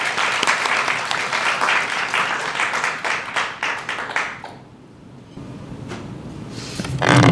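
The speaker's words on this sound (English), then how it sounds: "So let's give her a warm round of applause to Dr." An audience at a Forum for World Education roundtable gives a warm round of applause for Dr. Susan Sclafani, loud dense clapping that dips briefly and then swells again.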